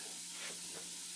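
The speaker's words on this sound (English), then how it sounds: "so we're crisping the ham up" Ham crisping in a pan gives off a steady, faint sizzle and hiss, with a couple of brief louder stirring swells and no voices.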